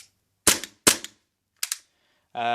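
A Tokyo Marui M9A1 Stainless airsoft gas pistol running on cheap gas fires three sharp, close cracks spaced a fraction of a second apart, each with a quick metallic slide clack, followed by a brief buzzing tone.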